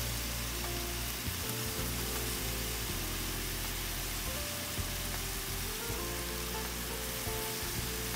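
Sous-vide pork chops sizzle and crackle on a griddle, a loud, continuous frying hiss with small pops scattered through it, heard alone without any talk.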